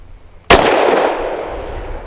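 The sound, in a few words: Sig P320 pistol firing solid copper bullets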